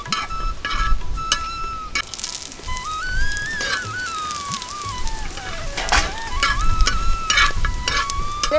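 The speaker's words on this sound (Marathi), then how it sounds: "थोडं तेल घालू आणि खोबरं आणि धने भाजून घ्यायचे" Grated coconut and coriander seeds roast in a little oil, crackling and sizzling while a utensil scrapes and stirs, with a faint wavering whistle-like tone running through the middle and no talking.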